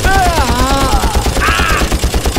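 Rapid automatic gunfire rattles continuously in the video game Far Cry, loud and dense, with tonal game sounds and a voice mixed in.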